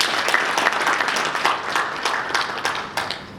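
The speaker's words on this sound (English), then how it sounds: "Let's give a round of applause to the CHRM alumni once again" Audience applause fills a hall at an annual talent summit, a dense, steady wash of many hands clapping at close range, holding at full strength without voices over it.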